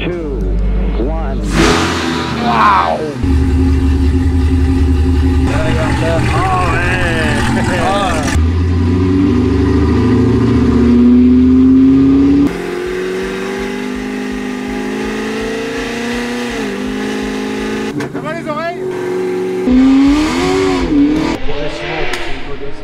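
A 1294 hp Fiat Multipla revs hard with wheelspin, the engine note rising and falling loudly in bursts as people talk over it throughout.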